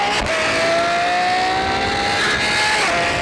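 A loud, high-pitched Ferrari 812 V12 with a valved sport catback exhaust revs and holds a steady scream, pitch climbing slowly then dropping, close and continuous for a few seconds.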